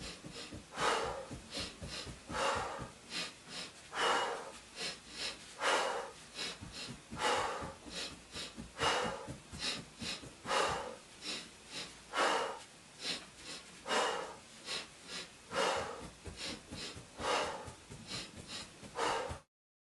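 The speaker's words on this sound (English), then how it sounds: "continue practice 2 breaths in, 1 breath out" Rhythmic breathing exercise: sharp nasal sniffs taken in pairs, each followed by a single exhale, repeating steadily and close up for the whole stretch, with no talking.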